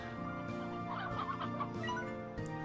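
A chicken in the video game Slime Rancher 2 clucks in a quick run of short, bright calls over a steady synthetic game music bed, moderately loud and close, with no talking.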